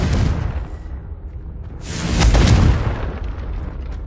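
A Confringo spell blast in Hogwarts Legacy, a deep booming explosion that swells to a loud peak midway and rumbles on in a dark, dusty interior, with no talking.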